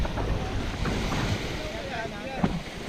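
Sea waves wash in at a beach in Kawayan, Mogpog, Marinduque, a steady broadband surf hiss with wind buffeting the microphone and faint voices nearby.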